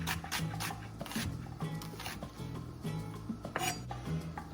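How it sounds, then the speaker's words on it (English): A knife slices a whole onion steadily against a cutting board, making repeated crisp taps in an even rhythm over a low background hum. "So I've got a whole onion that I'm slicing up."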